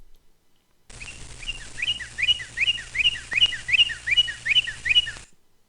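Northern cardinal song recorded on the East Coast: a string of about ten bright, evenly spaced whistled phrases, loud and close, repeating in a steady rhythm over faint low background hum, with no talking.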